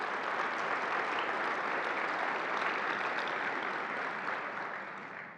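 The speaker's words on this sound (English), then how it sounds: "let's give them a big round of applause" Large audience applauding at an innovations challenge awards ceremony, a loud, dense, continuous roar of clapping that holds steady and then begins to fade toward the end.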